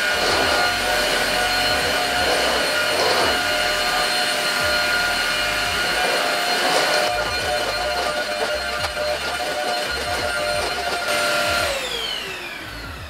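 Prettycare W200 cordless stick vacuum running on high, giving a loud, steady whine with a strong hissing airflow rush and thumping contact noises, then winding down with a falling pitch at the end.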